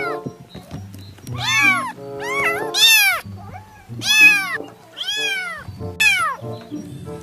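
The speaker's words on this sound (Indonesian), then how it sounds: "Kucing meong-meong." A cat meows repeatedly, about six loud, drawn-out meows spaced roughly a second apart, close by with no other sounds.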